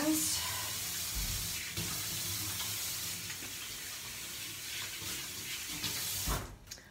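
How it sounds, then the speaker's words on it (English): Tap water runs into a kitchen sink as hands are washed, giving a steady close splashing hiss that ends abruptly when the tap shuts off. "Now, because I've touched trash, I'm gonna wash my hands."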